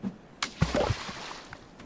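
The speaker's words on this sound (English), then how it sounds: "I made a splashing noise on the beach." Water splashes briefly on a beach in the Sons of the Forest video game: a quick, close slosh lasting under a second, then quiet background.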